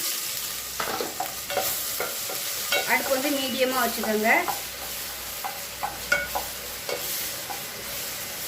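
Three tablespoons of ginger garlic paste sauté in hot oil on a medium stove for Ambur chicken biryani, giving a steady loud sizzle broken by stirring scrapes while someone speaks briefly.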